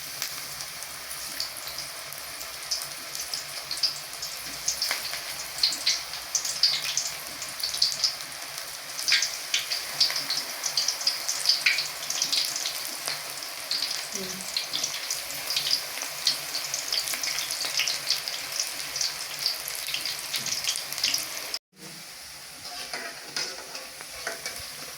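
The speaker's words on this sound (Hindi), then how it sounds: "ये देखिए और मैंने ऑयल डाल लिया इसके अंदर। अब डालते हैं जी पकोड़े।" Mixed pakoras fry in hot oil with a steady, close crackling sizzle that runs unbroken for most of the stretch, then cuts out briefly near the end before resuming more quietly.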